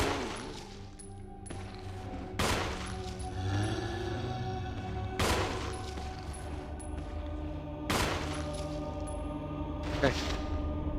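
Gunshots in the Wii version of Resident Evil Remake, played on hard mode as Chris: several sharp, separate shots spaced a few seconds apart over a low game ambience, with someone talking between them.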